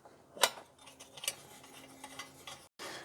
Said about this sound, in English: take a 7/16 inch wrench and remove the generator